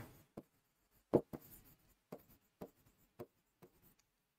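Chalk or marker on a board during an English lesson: a run of short, separate scratchy strokes with brief pauses between them, close and fairly quiet, with no voice over them.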